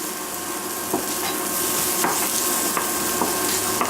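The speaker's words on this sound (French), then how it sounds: "Alors on mélange comme il faut." Flour is stirred into a pan over gentle heat for crepe tulip batter: a steady low sizzle broken by periodic scraping strokes of the spoon, close and with no voice over it.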